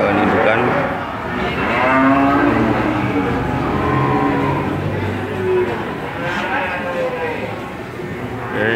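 Cattle low repeatedly as young cows come down off a truck at the Randudongkal cattle market in Pemalang, several long moos over a busy market din with people talking.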